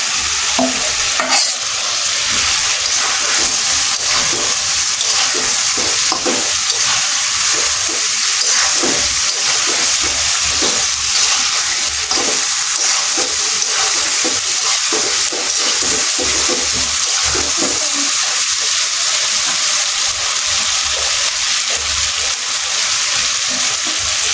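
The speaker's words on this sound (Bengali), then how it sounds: "আমি ভেজে রাখা সবজি দিয়ে দিলাম" Pre-fried vegetables sizzling loudly in a hot pan while being stirred for a chicken roast, with continuous frying hiss and repeated scraping strokes of a spatula throughout, no voices.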